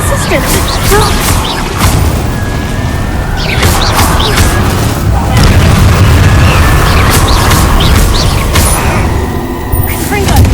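Confringo and Incendio spells fired in the video game Hogwarts Legacy, a series of loud booming blasts and crackling bursts repeating over a constant battle din, with a voice speaking across the blasts.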